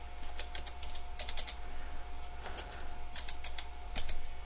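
Keys clatter on a computer keyboard in quick irregular bursts, close and fairly quiet, with no voices.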